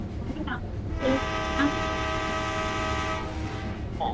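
Game train in GTA rolling along with a sustained multi-tone horn blast in the middle, loud and steady over background rumble, with brief bits of voice at the edges.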